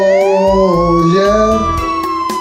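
A police car siren wails steadily and loudly up close, with rising and falling tones and a rumbling engine underneath, alone.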